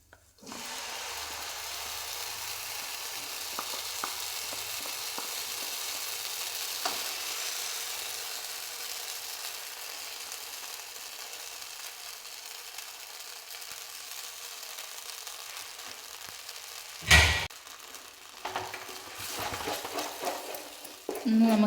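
Banana and coconut paste fries in ghee in a pan for a snack, a long soft steady sizzle with occasional stirring scrapes and a sharp knock near the end, no talking.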